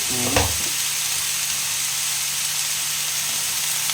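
Ridge gourd and potato slices fry in a pan with a steady broadband sizzle, a brief clatter of stirring near the start, then continuous even hissing to the end.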